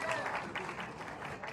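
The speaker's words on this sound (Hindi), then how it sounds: "जोरदार ताली से स्वागत करी पवन भैया के" Audience at an award ceremony applauding to welcome Pawan Singh, a faint, steady patter of clapping beneath an announcer's voice.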